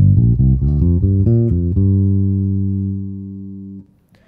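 Deep bass guitar through a Roxy B5 amp with heavy low-end boost plays a quick run of notes, then a long sustained note that rings out and fades to silence.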